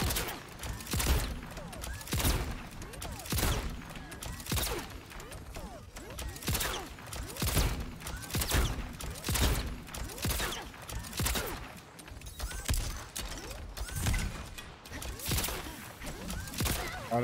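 Repeated gunfire bursts in the fighting game Mortal Kombat 11 during a ranked match, rapid evenly spaced shots running throughout at steady loudness, with a player talking over the action.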